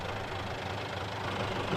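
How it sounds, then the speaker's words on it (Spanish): A tractor engine runs steadily on rough, uneven marshy grassland, a low continuous rumble heard at moderate distance without voices. "El tractor fue el vehículo más eficaz en la superficie despareja del malezal."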